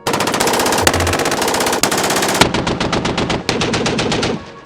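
Maxim machine gun firing in loud, sustained automatic bursts, a rapid steady stream of close, sharp reports with a brief change in tone midway before trailing off.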